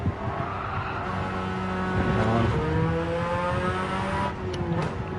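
Engine note of a car in Gran Turismo 7 lugging at low revs, a steady droning hum with slowly rising harmonic tones, some tire scrub underneath, continuous throughout without talk.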